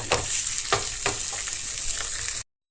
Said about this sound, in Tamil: ஸோ நான் வந்து பன்னீரை ஃப்ரை பண்ணுறதுக்கு நான் நான்ஸ்டிக் பேன் தான் யூஸ் பண்ணுவேன்